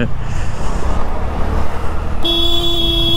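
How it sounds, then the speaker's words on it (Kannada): A driving school car passes on a road with a dense, rumbling engine and road noise up close, then a steady tonal horn or whine sets in near the end; a voice talks over it. "ಯಾವುದೋ ಡ್ರೈವಿಂಗ್ ಸ್ಕೂಲ್ ಗಾಡಿನೇ ಇದು"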